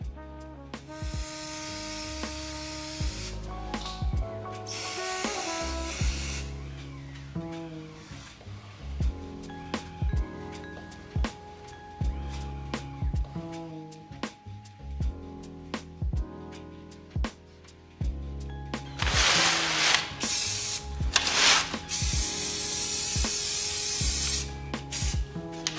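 Short bursts from a spray paint can coat motorcycle exhaust shields on a Victory Magnum, a series of close hissing sprays with pauses between, a longer run of hiss near the end, over a faint musical background.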